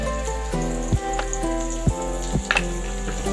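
Onion and masala sizzle steadily in hot oil in a pan, a continuous crackling hiss with a few sharper spatters and stirring clinks breaking through.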